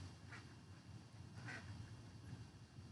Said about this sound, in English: Duck is louder than the guy's Harley from earlier.